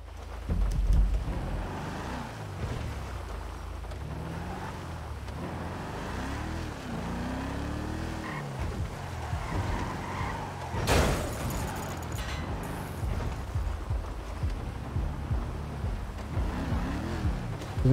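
A car is driven in FiveM, its engine a steady low rumble that rises and falls in pitch as it accelerates and shifts. A brief sharp burst sounds midway, with continuous road noise throughout.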